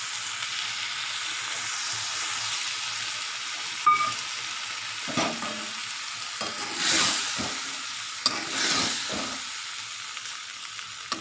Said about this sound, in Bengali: আমি এবার দিয়ে দিচ্ছি জল।